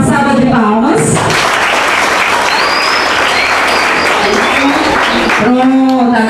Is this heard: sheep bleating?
no